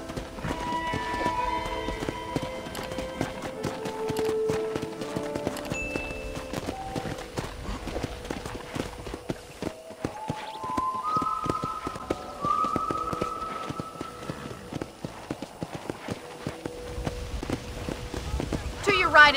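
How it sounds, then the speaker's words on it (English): Horse hooves while riding in the video game Red Dead Redemption, a steady clip-clop of hoofbeats under frequent talking, with background music tones running throughout. "let's see if you can still ride a horse"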